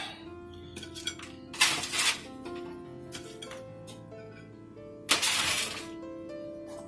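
Freshly baked biscuits set onto a plate, with two bright clinks of dishware against a hard surface and a few softer knocks under a faint hum, close by, no talk.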